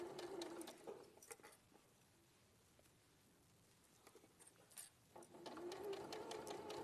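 A sewing machine stitches a quarter-inch seam around a fur bag, running in two steady whirring bursts with a quiet pause between them, close and moderately loud.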